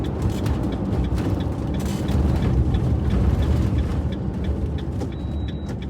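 A car rolls slowly up to park at a pub near Hadrian's Wall in Northumberland, with a steady, close engine and road rumble heard from inside the car throughout and no talking.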